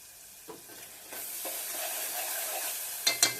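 Eggplant palya being mixed in a frying pan, quiet at first, then a steady sizzle rises after a spoon knocks, and two sharp clanks of metal on the pan come near the end.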